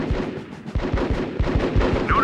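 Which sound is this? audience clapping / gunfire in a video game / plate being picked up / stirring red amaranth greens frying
gunfire in a video game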